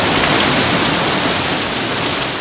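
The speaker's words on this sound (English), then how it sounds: "Rain, glorious rain, began pouring from the skies" Heavy rain pouring down in Tampa Bay, a loud, dense, continuous hiss of water hitting surfaces, steady and close throughout with no voices.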